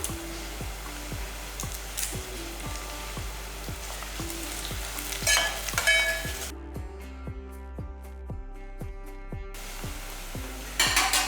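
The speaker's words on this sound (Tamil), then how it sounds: "இதில் 1 இனுக்கு அளவுக்கு கருவேப்பிலையை எடுத்துகிட்டு இதை நல்லா ரெண்டாக பிச்சு போட்டுக்கலாம்" Curry leaves sizzle as they fry in a pan of oil, a continuous hiss with sharp crackles and pops, along with a repeating rhythmic ticking and a brief burst of tonal noise midway.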